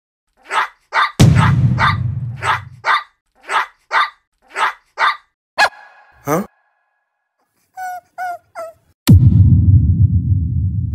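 A dog barks in a quick series of sharp, close barks, followed by a few higher, thinner yelps, with loud bursts of background noise cutting in between.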